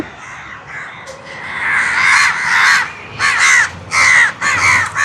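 Crows caw loudly and close by at a food offering of payasam and other dishes set out during an almsgiving in Sri Lanka. Harsh calls come in several short repeated bursts over faint background noise.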